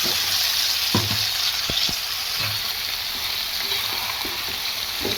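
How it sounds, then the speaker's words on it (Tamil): Ground mint paste sautés in sesame oil with fried garlic over a slow flame, giving a steady close sizzle with occasional soft stirring knocks and no talk. "நல்லெண்ணெயிலே நல்லா ஸ்லோ ஃப்ளேமில் வச்சு வதக்குனிங்கன்னா ரொம்ப டேஸ்ட்டாக இருக்கும்"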